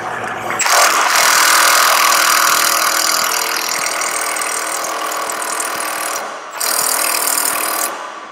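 Impact gun working on a 17 mm bolt under a 1992 BMW E34 M5, heard as a loud, close, sustained buzzing hammer in two bursts separated by a short pause.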